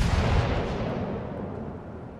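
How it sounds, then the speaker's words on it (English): Heavy naval gunfire from the German battleship Bismarck firing a broadside in World of Warships, a loud, dense rumbling boom at the start that rolls off into a long, fading low-frequency tail. "Bismarck's broadside."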